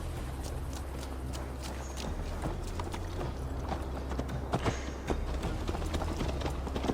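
Horse hooves gallop in Assassin's Creed Valhalla, a steady rapid clip-clop pounding close up across the whole ride over a low rumbling game ambience.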